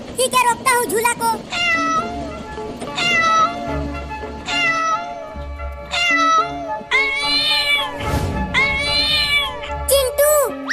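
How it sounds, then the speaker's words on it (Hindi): A cat meows again and again with drawn-out, wailing cries that rise and fall in separate bursts, loud and close, while people talk in the background. "ये बिल्ली रो भी रही है।"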